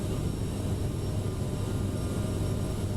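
Thrust reversers on a CRJ jet in a flight simulator game produce a steady, dense low roar of engine noise that holds constant throughout, with no talk.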